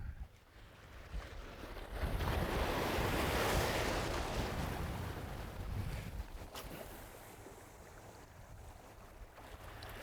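Gusty wind buffets the microphone on a beach, swelling to a loud roar before easing, with surf washing underneath.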